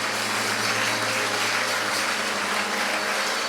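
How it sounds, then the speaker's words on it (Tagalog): A church congregation applauds loudly for God, a dense, steady wash of clapping that fills the whole moment without a break. "Malakas na palakpak para sa ating Diyos"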